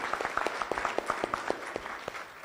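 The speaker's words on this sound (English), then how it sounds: "a round of applause for them as well, please." A small audience at a DevOps conference panel gives sparse, quiet applause, a few distinct claps spaced unevenly and fading within a couple of seconds.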